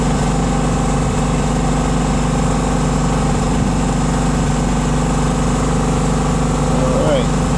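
Car engine idling steadily with an exhaust leak from a worn muffler, a constant low rumble and vibration throughout, close and loud with no break.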